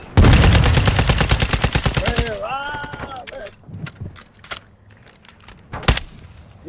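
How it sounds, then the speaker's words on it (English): Rapid gunfire in the DMZ video game opens with a fast, loud burst of evenly spaced shots lasting about two seconds, then scattered impacts and a single sharp blast later, with voices talking over it. "Someone's got the shotgun."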